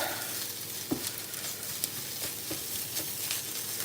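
A pre-fried egg sizzles on top of shrimp fried rice in a hot pan and is broken into pieces. A steady, close frying hiss is broken by a few sharp spatula taps.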